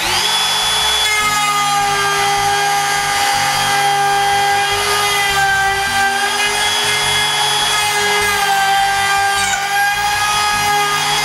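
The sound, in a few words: router and rasp trimming excess formica edging on plywood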